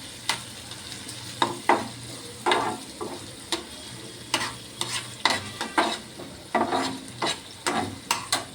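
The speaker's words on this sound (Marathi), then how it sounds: "कांदा थोडा परतवून घ्यायचा" Onion sautéing in a pan over medium heat for a fenugreek greens dish, a soft continuous sizzle punctuated by sharp, irregular scrapes and clicks of a spatula stirring, close and loud with no talking.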